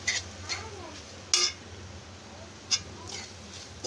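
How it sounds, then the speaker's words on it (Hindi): Chowmein being tossed with soy sauce in a pan, with a few sharp metal clinks of utensil against the pan over a soft, steady kitchen background, no talking. "और ये सोया सॉस, अब इसको मिक्स करेंगे।"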